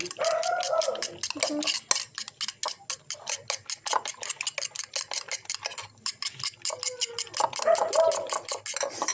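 An egg being mixed in a bowl, with quick, steady clinking and tapping strokes running through the whole stretch, while people talk quietly in the first and last seconds.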